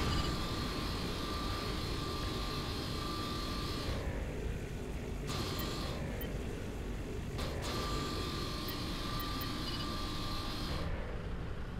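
An airplane passes overhead in Saints Row: The Third, a continuous loud aircraft engine roar with a steady whine holding through the whole stretch, no voices over it.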